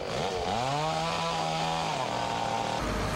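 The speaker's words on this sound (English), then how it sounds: "Crews with chainsaws tackled massive trees." A chainsaw revs and drones steadily through a cut, its engine pitch rising then holding, loud and close, as crews clear massive trees felled by a tornado in Salt Lake City in 1999.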